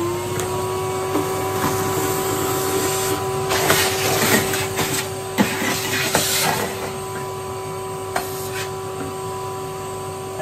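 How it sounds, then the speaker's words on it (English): An old Henry Hoover vacuum cleaner sucks ash from a wood stove on a widebeam boat, a steady loud motor whine with bursts of rattling and crackling as debris is drawn up the hose. "my old Henry Hoover that I had in at work."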